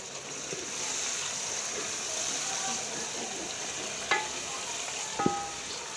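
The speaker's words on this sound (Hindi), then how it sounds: "एक अदर टमाटर डालेंगे और मसाले को हम अच्छी तरह से भूनेंगे।" Ginger, tomato and masala frying for aloo palak gosht: a steady hiss of sizzling oil runs throughout at close range, with a few sharper clinks of a spoon stirring the pan near the end.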